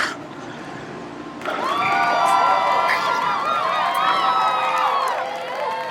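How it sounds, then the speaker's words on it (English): A crowd breaks into loud cheering and whooping partway through, jumping up from a quieter murmur and holding at full volume, with shouting voices layered in the roar. "Loud cheering sound effects"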